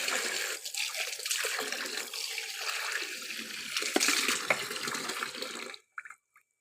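Water pours steadily as an offering to a Shiva deity in a household shrine, a soft continuous splashing stream that stops abruptly, followed by a few faint drips and then silence.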